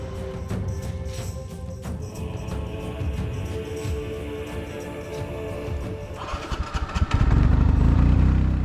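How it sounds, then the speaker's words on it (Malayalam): A rented scooter's small engine runs with an uneven putter near a very high suspension bridge, then revs up into a loud, rough roar near the end. "നമ്മളൊരു സ്കൂട്ടർ ഇവിടുന്ന് റെന്റ് എടുത്തിട്ടുണ്ട്."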